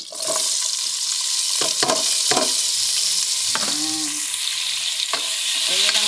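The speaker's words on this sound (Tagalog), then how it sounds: "ilagay ko na yung sibuyas" Onions frying in a pan with oil for a Lebanese vegetarian dish, just after eggplant was fried, giving a loud, continuous hissing sizzle with occasional stirring knocks and scrapes.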